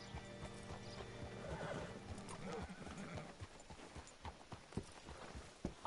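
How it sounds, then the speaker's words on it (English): Horse hooves clop along steadily while a horse whinnies loudly in the middle, with ambience from the video game Red Dead Redemption 2. "Hitch your horse up here."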